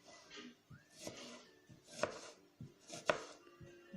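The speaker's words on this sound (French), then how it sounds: "donc j'ai coupé mes oignons. Donc maintenant, on va les couper." A knife chops onions on a board for a pork sauté in tomato sauce, giving a few soft, irregular cutting knocks, faint and close, with no talking.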